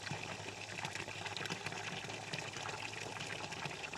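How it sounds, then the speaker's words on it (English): Water pours steadily into a goat's drinking trough on a farm, a continuous near gush and trickle with no talking. "I'm filling up the water for you."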